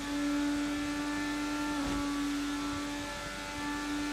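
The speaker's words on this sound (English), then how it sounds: "the car sounds really good" An IndyCar engine in the Assetto Corsa racing sim at Indianapolis drones at steady high revs, with a constant whine and harmonics running through the whole stretch and a brief disturbance near the middle.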